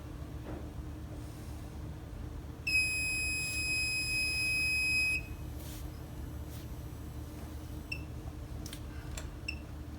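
An oil water separator's high oil point alarm gives one steady, piercing electronic tone of about two and a half seconds, prominent over a constant machinery hum, followed by a few faint ticks.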